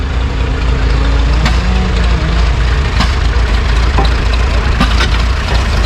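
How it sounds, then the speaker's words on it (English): A coal-fired steam traction engine of about 10,000 pounds runs at a farm machinery show, giving a loud, steady low rumble with occasional clanks and knocks. "Yeah, and the coal makes steam. It's a steam engine."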